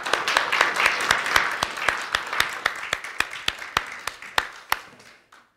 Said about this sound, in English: Can we just give them all a round of applause?